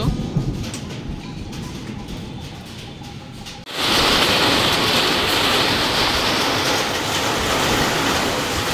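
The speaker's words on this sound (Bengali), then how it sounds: "এবার পুরো বৃষ্টি শুরু হয়ে গেছে।" After a few seconds, a sudden loud burst of heavy rain sets in and keeps up a dense, roaring patter, as if drumming on a roof.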